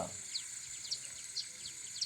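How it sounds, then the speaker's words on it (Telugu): Small birds chirp outdoors in cool hill-country air, with faint, high, short calls repeating every half second or so over a soft background hiss. "పక్షుల కిలకిల రావాలు మంచిగా వినిపిస్తున్నాయి."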